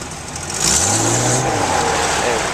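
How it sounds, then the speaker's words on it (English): A 1983 Jeep CJ7 engine revs up loudly and the clutch is dumped, making a strong, close engine roar that rises and holds steady, with a faint hint of voice underneath. "just rev it up, dump the clutch a little bit, and you can see it, that front wheel peeling out a little bit"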